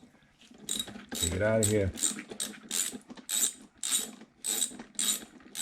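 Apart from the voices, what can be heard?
ratchet wrench removing Honda EU2000i generator spark plug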